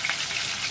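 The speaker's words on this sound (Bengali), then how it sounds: "এবার আমি তেলে আলুগুলো দিয়ে দিলাম" Potatoes hit hot oil in a pan with a dense, steady hiss of frying, close and uniform for a brief moment.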